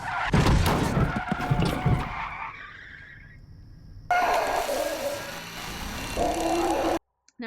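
In a film scene, a car's tires screech in a loud, drawn-out skid that fades, followed after a pause by a sudden harsh burst of noise from the impact that cuts off abruptly.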